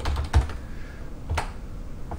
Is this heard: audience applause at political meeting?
no